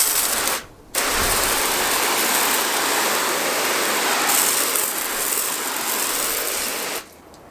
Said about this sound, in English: So let's go ahead, mist it with some water and see the hydrophobics.